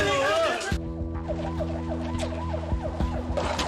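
An ambulance siren wails steadily as the vehicle pulls away from the scene of a large logistics warehouse fire disaster, a sustained tonal call that stays fairly loud against traffic noise after a brief burst of other sound.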